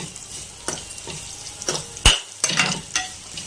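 Sago khichdi with ginger pieces, curry leaves, green chillies, potato, cashews and cumin sizzles as it is tossed in a pan, loud frying hiss broken by repeated scraping strokes and a sharp clank midway.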